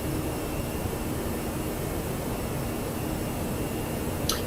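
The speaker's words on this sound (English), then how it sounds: "the engine is rather loud, sorry about that" Airbus A319 jet engines roar steadily in the X-Plane 12 flight simulator during acceleration, a loud constant broadband rush with a faint tonal whine, and a brief click near the end.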